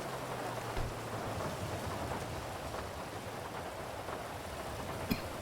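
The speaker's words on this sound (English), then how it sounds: "It's just the rain, man." Steady rain falls in a GTA V roleplay game scene, a constant soft hiss with a faint thunder-like rumble and one brief crack near the end, with no talking.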